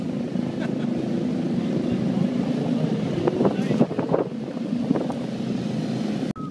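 Race motorcycles roll out onto a track at a camp in Almería, their engines a continuous mid-distance drone with rising and falling revs, mixed with open-air wind noise.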